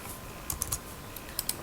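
Several separate keystrokes on a computer keyboard as a security code is typed into the KRA iTax login page, light clicks spaced unevenly over a low steady room hum, close and fairly quiet.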